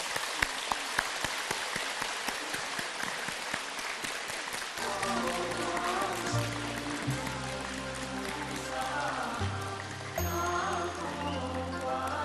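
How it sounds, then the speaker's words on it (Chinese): An audience at a Buddhist talk in Auckland, New Zealand, gives dense, sustained applause to welcome a speaker. The clapping sounds like rain, and a low tonal hum joins in partway through. "让我们用最热烈的掌声，恭请尊敬的卢台长为我们慈悲开示"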